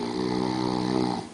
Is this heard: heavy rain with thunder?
no